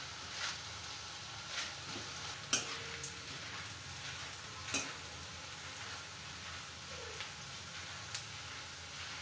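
Onion bhaji frying in oil over a low flame, a soft continuous bubbling sizzle with occasional light clicks and taps of a utensil against the pan, fairly quiet and without voices.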